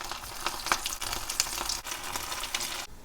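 Mutton keema balls dropped one by one into hot oil in a pan and deep-fried, giving a continuous soft crackling sizzle at moderate distance with small pops and no voices.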